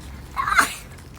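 A single short sneeze in a quiet room at home, a brief burst near the middle of an otherwise calm moment with no talking.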